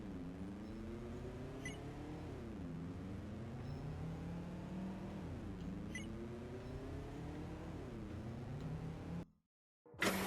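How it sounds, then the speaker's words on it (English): A lorry driven in the video game Zombotron 2 Time Machine, its steady engine drone rising and falling in pitch with acceleration, continuous and moderately loud before a brief cutout near the end. "we find the lorry and must drive it back to the bunker"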